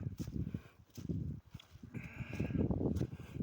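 Lambs bleat repeatedly on a farm, a red lamb among them calling for its ewe, with overlapping cries near and fairly loud in several bursts.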